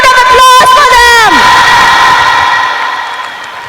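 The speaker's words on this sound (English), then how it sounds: "Give a big round of applause for them!" A school crowd of students cheers and whoops loudly at a Republic Day event after a beatboxing performance, with a bright tonal sound sweeping down early on before the noise fades gradually.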